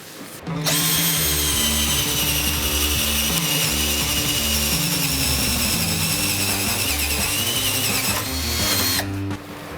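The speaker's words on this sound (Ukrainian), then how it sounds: "тепер, як завжди, проведемо тест на перових сверлах. Спочатку 20." A Vitals cordless drill-driver bores with a 20 mm spade bit on its first speed, giving a loud, steady motor whine that starts abruptly, holds for about eight seconds and then cuts off, with no talking.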